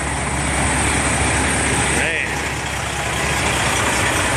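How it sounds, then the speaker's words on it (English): Trucks idle at a loading site for aluminum cans, producing a steady, dense engine rumble and broadband roar that holds constant throughout. "All these guys idling their trucks."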